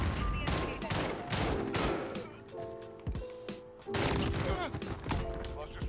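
Rapid gunfire bursts from the Modern Warfare video game, sharp repeated shots in clusters with brief pauses, fairly quiet in the mix with mechanical clatter and occasional voices.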